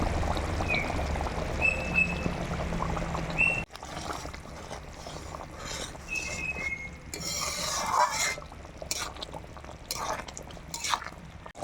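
Water pouring into a hot pan for an egg and potato curry, a continuous splashing hiss that cuts off abruptly, followed by quieter sizzling and a few utensil clinks.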